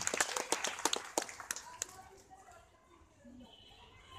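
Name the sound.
audience applause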